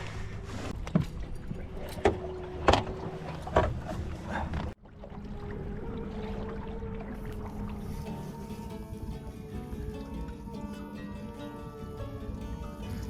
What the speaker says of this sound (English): I'm using my electric trolling motor that is linked to my depth sounder to navigate a route